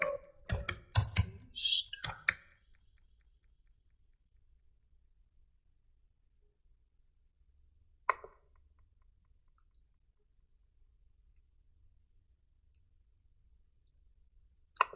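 Fingers type on a computer keyboard in a quick two-second burst of close clicks, then the room falls quiet apart from a couple of isolated key taps.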